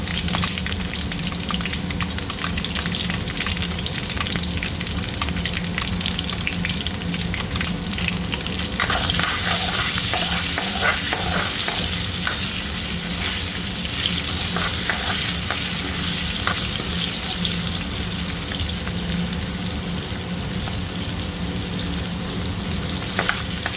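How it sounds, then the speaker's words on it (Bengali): Potatoes fry in a pan for a Bengali potato and drumstick curry, a steady dense sizzle with occasional stirring scrapes, close and continuous throughout with no talking. "আলুগুলো আগে ভেজে নেব।"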